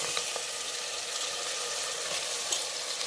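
Mutton frying in a pot with onions for a homemade mutton curry, a steady close sizzle with faint scraping, no talk.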